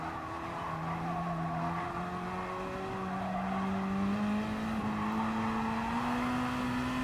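A Gr.3 race car in a racing video game at Tokyo Expressway South Inner Loop, its engine droning steadily while tires squeal in a long continuous slide.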